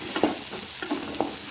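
Turkey berries (sundakkai) sautéing in a pan give a soft, continuous sizzle, with a few light stirring scrapes and clicks close by.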